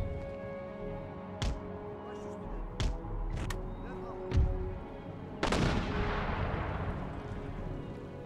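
Musket volleys crack in an Empire Total War battle set in a World War One scenario, four or five sharp reports spaced over several seconds, the last a heavier rolling blast, over a constant battlefield din with faint talk.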